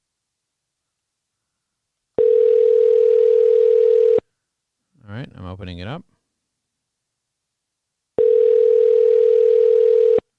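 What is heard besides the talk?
phone call ringing tone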